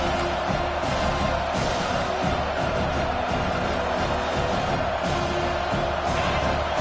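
Home crowd at a football game roaring as the defense faces third down, a dense, distant, steady wall of cheering with no talk over it.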